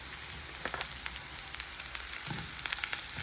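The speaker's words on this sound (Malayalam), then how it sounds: "ഗാർലിക്ക് ഇട്ടു ചെറിയുള്ളി ഇട്ടു രണ്ട് വറ്റൽ മുളക് ഇട്ടു അരക്കപ്പ് തേങ്ങ ഇട്ടു" Garlic, shallots, dried red chillies and grated coconut frying in sesame oil for a garlic chutney, producing a dense, steady sizzle with crackling pops throughout and no voices.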